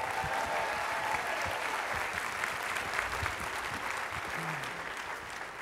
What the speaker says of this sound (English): A round of applause for Donna, please.